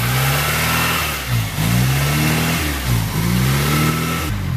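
A Honda Prelude engine with a revving fault, rising and falling through several repeated revs close by, loud and rough, dipping briefly between each surge.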